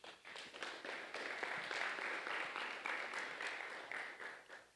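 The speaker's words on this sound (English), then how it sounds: "Please give her a round of applause." Steady audience applause at a clinical research conference, with dense overlapping claps, sustained at an even level throughout, close and fairly loud.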